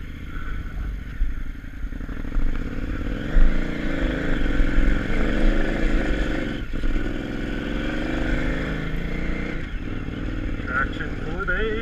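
Jeeps crawl over slick rock in Moab, their engines revving and droning at mid distance with occasional clattering bumps, while people talk throughout.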